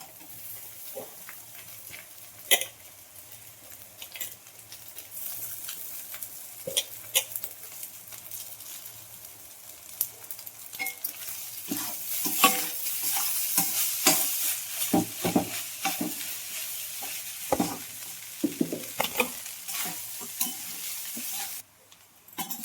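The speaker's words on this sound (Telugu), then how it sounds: "రైస్ వేసుకొని బాగా కలుపుతున్నాము" Cooked, cooled rice being stirred into fried egg in a hot pan for egg fried rice, with steady sizzling and repeated scraping, tapping spatula strokes over about twenty seconds, close and moderately loud with no talking.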